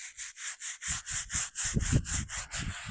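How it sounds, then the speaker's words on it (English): Light brushing on an old granite headstone over 100 years old: steady back-and-forth bristle strokes in an even rhythm, close and fairly loud, with no talking. "Nice light brush. Nice light cleaning."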